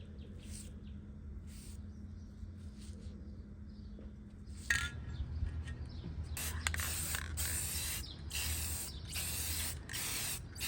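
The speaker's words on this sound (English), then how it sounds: "then I'll sand that, and then I'll spray them" Faint mechanical clicks and creaks give way to bursts of hissing spray as finish is sprayed on refinished mid-century furniture, several short blasts in a row, fairly close.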